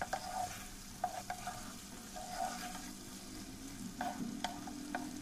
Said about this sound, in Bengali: আমি আবারও লাস্টে একটু নেড়ে চেড়ে মিক্সড করে নেব